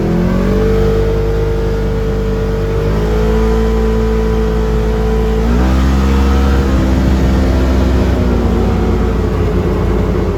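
A Polaris RZR 1000 on 32 inch Assassinator tires accelerates hard, its engine droning loud and close with rising pitch and a couple of shifts along the pull, with no talking.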